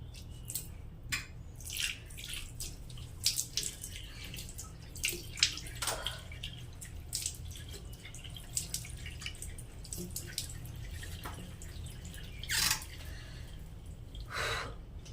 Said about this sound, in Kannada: ಫಸ್ಟು ಮುಖನ ತೊಳ್ಕೊಳ್ಳೋಣ ಸ್ವಲ್ಪ ಮುಖಕ್ಕೆ ನೀರು ಹಾಕ್ಕೊಂಡು